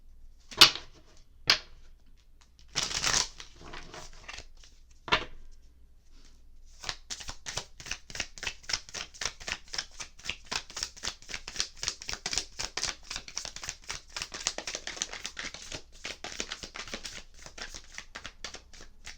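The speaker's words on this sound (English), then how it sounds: "Cards flow, that shuffle." Tarot cards shuffled up close: a few sharp taps, then a long run of rapid riffling flutters, quiet and steady.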